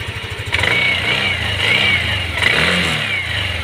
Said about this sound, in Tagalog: painitin muna natin para marinig natin yung kumakalansing sa loob